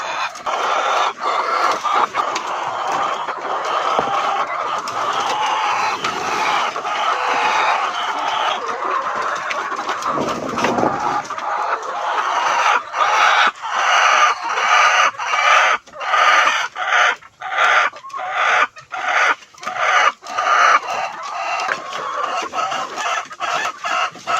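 Red Tapa-Tarlac Layer chickens are fed while clucking steadily and densely close by, with occasional louder squawks and pecking clatter and no talk.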